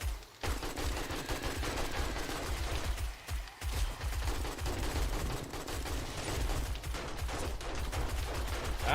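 9mm pistol gunfire in the survival game 7 Days to Die, a dense, continuous volley of rapid shots filling the whole stretch, loud and close with no talking.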